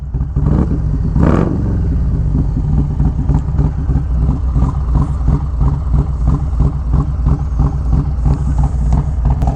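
A Harley-Davidson performance bagger with a Kraus setup and a 475 cam runs with a loud, steady, choppy engine lope, its rhythmic pulses close by, plus a brief rev swell near the start.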